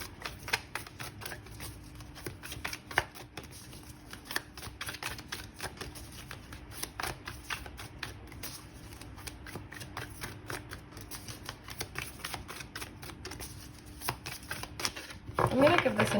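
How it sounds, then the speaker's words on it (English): Tarot cards are shuffled by hand in a fast, continuous run of crisp riffling flicks, close and fairly quiet, with a louder burst of handling at the very end. "I'm going to give this another shuffle."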